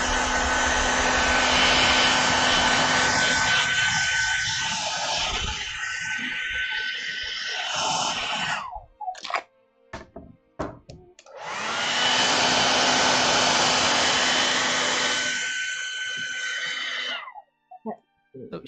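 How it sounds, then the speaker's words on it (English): A handheld hairdryer blows loud and close as a steady whoosh, cuts off briefly with a few clicks and handling noises, then roars again before switching off. "I'm gonna let me get my hairdryer out"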